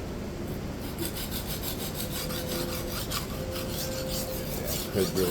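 A steel knife blade, around 62 to 63 Rockwell, is ground at about 14 degrees per side on a coarse 120 grit stone, giving a continuous close, loud rasping rub with rhythmic back-and-forth strokes.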